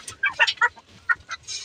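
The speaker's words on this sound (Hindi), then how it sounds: "तो ये मुर्गियाँ तो निकल रही है इधर से" Desi hens cluck in short, irregular bursts in a poultry farm, several close-by chirpy clucks and squawks spaced by brief pauses.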